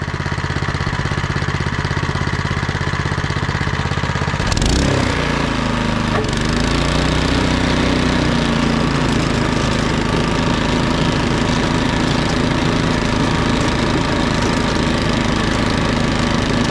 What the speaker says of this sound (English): So far so good, blowing snow good.